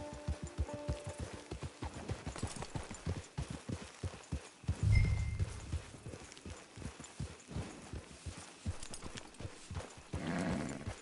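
Horse hooves clip-clopping steadily at a walking pace in a video game, with a brief snort or whinny midway and faint background ambience, no talk.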